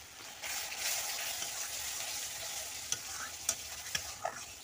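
Beaten sour yogurt goes into spices in a pan for a prawn curry, bringing a steady, fairly faint sizzling hiss with a few sharp clicks of a spoon toward the end.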